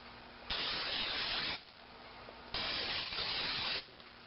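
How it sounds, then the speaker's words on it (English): Non-stick cooking spray hisses inside an omelet maker in two close bursts of about a second each, separated by a short pause. "I'm going to spray the inside of this thing here"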